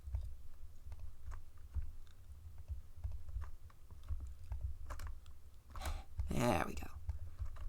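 Fast clicking of keys on a computer keyboard, close and steady over a low hum, with a denser burst of taps near the end and a short spoken remark.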